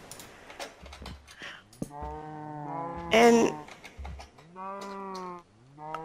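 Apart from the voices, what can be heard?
cows mooing in the video game Minecraft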